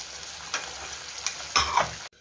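Fish curry masala for a Tamil-style anchovy (nethili) kuzhambu sautéing in a pan, with a soft continuous sizzle, a few louder stirring scrapes near the end, then a sudden cut to silence.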